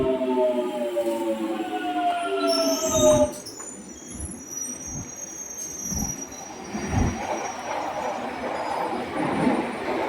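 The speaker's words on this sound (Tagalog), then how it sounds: "Ito yung first train ko." A train runs past with wheels squealing in steady pitched tones, then gives way to a rumbling roll with rhythmic low thumps from the rail joints, loud and close at a UK station early in the morning.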